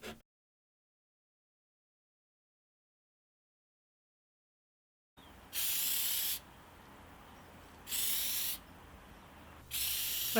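Three separate bursts of white spray paint hiss indoors, each lasting about a second, after a long silence, with a quiet room background between them.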